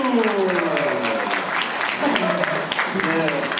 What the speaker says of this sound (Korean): 어떻게 보내주시겠습니까? 네, 박수!